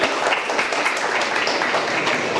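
Applause from the audience at a two-day spiritual convention discussion session, a dense, steady wash of many hands clapping throughout, fairly loud and filling the room.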